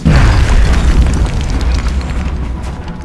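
A grenade in XCOM: Enemy Unknown detonates with a loud, deep boom right at the start. A rumbling, crackling tail fades slowly over a few seconds.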